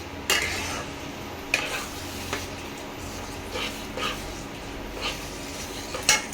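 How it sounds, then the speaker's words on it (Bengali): Mutton mince stir-fried with spices in a pan, heard as a low continuous sizzle with intermittent scrapes and clinks of a spatula against the pan, close by and with no one talking. "কিমাটাকে এবারে মশলার সঙ্গে কষতে হবে।"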